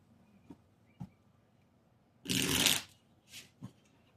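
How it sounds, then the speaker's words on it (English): A quick riffle of a card deck, close and crisp, followed by a softer second burst and a few light taps. "I just want to shuffle them real good."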